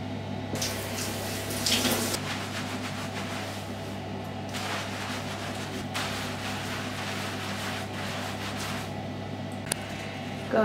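Steady running water from a tap pours continuously while hair is washed, a constant close hiss with a few louder splashy surges, no talking.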